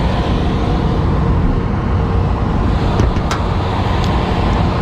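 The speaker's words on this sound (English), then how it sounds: "Direct drive blower. No belt." Direct drive blower with no belt running inside a Trane rooftop air conditioning unit, giving a loud, steady broadband whoosh and hum throughout, with a few faint clicks near the end.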